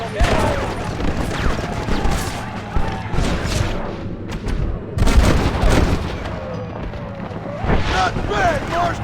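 Gunfire from a machine gun during a Red Dead Redemption shootout, with bursts and booming shots scattered through the fight, loud and close, mixed with shouting voices.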